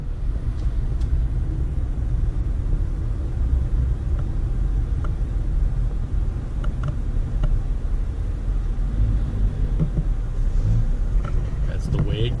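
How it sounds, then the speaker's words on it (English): Heavy Dallas city traffic surrounds a car, with a constant low road rumble and engine drone, occasional passing vehicles, and people talking inside the car. "Traffic is just atrocious."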